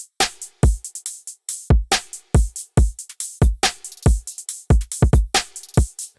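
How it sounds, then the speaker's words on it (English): A 140 BPM electronic drum loop in an Ableton project, with punchy deep kicks and layered snares hitting in a tight repeating pattern, loud, dry and close, with no talk. "The drums sound like this."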